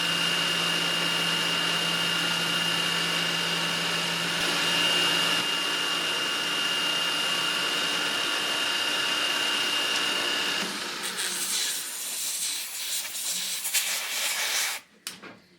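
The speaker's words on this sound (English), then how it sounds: "You just saw me using a 2mm carbide end mill to finish this spline to final width" A 2 mm carbide end mill cuts a spline on a chuck jaw being modified, giving a steady loud machining whine with a high tone for about eleven seconds before the cut eases, then rattling and stopping.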